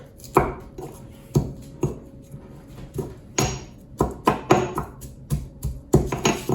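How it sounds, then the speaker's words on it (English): Garlic cloves being smashed and ground with salt, a string of hard, uneven thuds and crunches on a board, loud and near, with no talking. "Smash up my garlic."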